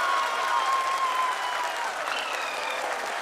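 An audience in a space agency control room applauds the Chandrayaan-3 lander module's touchdown, a steady, fairly loud wash of clapping hands with a thin tone briefly ringing through it.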